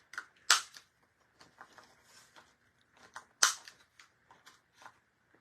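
A corner rounder punch rounding the corner of a paper card during a papercraft project, giving two sharp snapping clunks with soft handling rustles and light clicks between them, close and alone.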